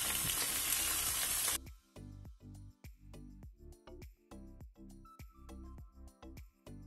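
Meat browning in a pan with onion and garlic: an opening burst of loud, steady sizzle gives way to repeated scraping and stirring strokes with a softer frying hiss between them, close and clear with no voices.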